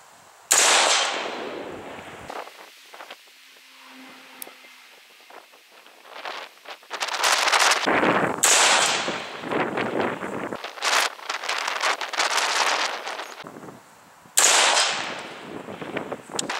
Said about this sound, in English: So we'll go ahead and start putting some rounds down range and see what kind of accuracy we can get out of this stuff.